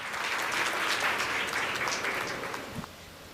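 Audience applause welcoming comedian Baljeet Kaur Tanha to the stage at a Hindi comedy show, a dense sustained clapping that stays steady and loud before fading slightly near the end, with no voices over it.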